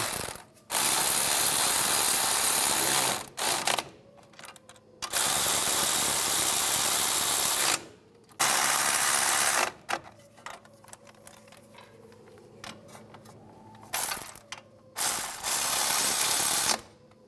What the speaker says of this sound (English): I'm going to tighten the bolts down.